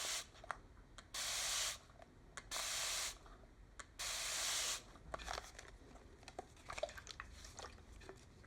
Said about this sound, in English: they have a really nice fine mist spray